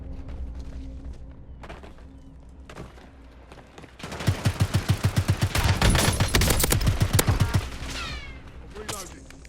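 Automatic gunfire in the video game Warzone: a few scattered shots, then a sustained rapid burst of evenly spaced rounds for several seconds, loud and close, fading into a few final shots.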